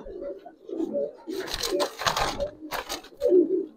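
Giribaz and coloured pigeons coo in soft repeated bursts close to the mic while a pair is handled and released, with rustling and flapping between the calls.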